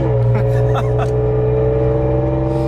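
Toyota Tacoma truck driving with its C pillar trim removed, a loud steady engine and road drone filling the cab, holding constant without clear revving changes.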